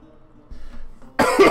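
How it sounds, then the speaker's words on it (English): A single person coughs sharply and loudly at close range after a brief quiet stretch, breaking off spoken narration during a tabletop fantasy role-playing game session. "Sorry, coughing."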